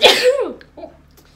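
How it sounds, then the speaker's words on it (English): A single sharp sneeze rings out loud and close, triggered by dust, and fades quickly with a short breathy tail. "I sneezed because the dust"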